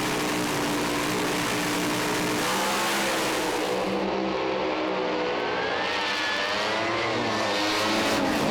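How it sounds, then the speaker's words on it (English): Drag racing funny car engines rev loudly as the cars edge forward into full stage, a continuous roaring blare at close range that stays intense throughout and shifts in pitch partway through. "The revs build up, they'll start to edge the funny cars forward into full stage."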